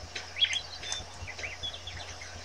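A bird chirps in the Star Stable video game, soft, rapid tweets scattered over a quiet background hum, faint and close.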